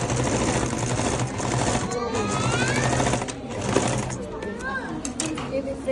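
Sewing machine running while stitching a school uniform, a steady rapid mechanical whir with brief pauses and restarts, close and fairly loud, with someone talking over it throughout.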